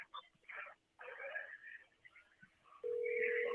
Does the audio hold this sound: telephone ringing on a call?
yes